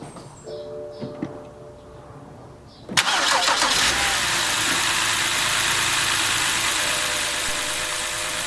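A 2008 BMW 528i E60 with new spark plugs and ignition coils cranks and catches with a sudden loud start, then settles into a steady, smooth idle close by.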